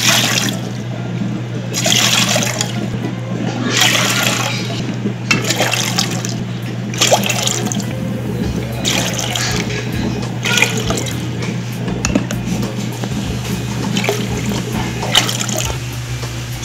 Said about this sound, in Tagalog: Ilalagay po tayo ng 10 glass ng water.